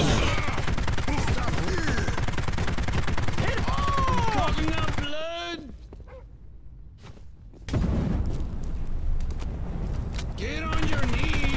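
Gunfire in the video game POSTAL Redux, with sustained shots and chatter over game effects, a sudden drop to near quiet partway through, then the firing resumes loudly.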